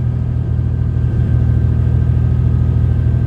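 A 1991 Chevrolet S10 Extended Cab engine idles steadily up close, a loud, even low rumble with a faint constant whine above it and no one talking.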